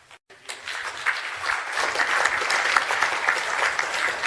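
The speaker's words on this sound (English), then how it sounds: "Now let's give our fellow from the Civil Commitment Center another round of applause." An audience at a talk on civil commitment breaks into applause after a speaker finishes. It starts after a brief pause, swells quickly and holds steady as a dense wash of many hands clapping.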